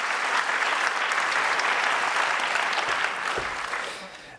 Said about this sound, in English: let's give her an applause for being chosen.